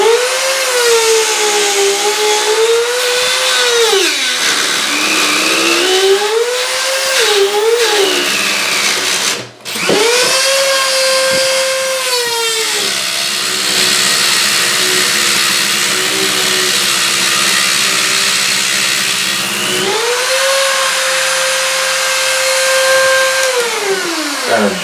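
Power tool grinding and cutting inside a drain pipe, a loud continuous whine that rises and falls in pitch as the load changes, with a brief cutoff midway before resuming steadily.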